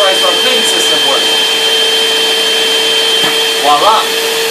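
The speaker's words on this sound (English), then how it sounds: "let's show you how the Cyclonic cleaning system works." A cyclonic vacuum cleaner runs loud and close, a steady high-pitched whirring roar with a constant tonal whine, with brief faint voices breaking through in places.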